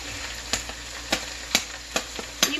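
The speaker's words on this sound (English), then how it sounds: "into the pot with the garlic" Garlic sizzles steadily in a pot, a bright continuous hiss broken by several sharp spoon or utensil clicks at irregular intervals, close and fairly loud with no talking.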